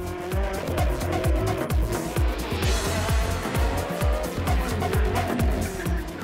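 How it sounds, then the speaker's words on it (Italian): Ferrari 458 GT3 race car at a mountain hill climb race, its engine roaring loud and close with a rapid series of rhythmic revving pulses and gear changes throughout, tire noise mixed in. "al volante della sempre ammirata Ferrari 458 in versione GT3"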